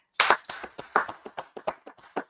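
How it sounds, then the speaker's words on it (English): An audience claps at a religious talk, a quick run of about a dozen sharp, evenly spaced claps lasting around two seconds, fairly close and with no voices over it. "Let's clap it up for that."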